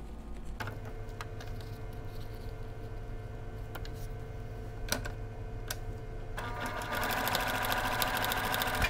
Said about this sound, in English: Okay, now I'm going to sew the cuff unit together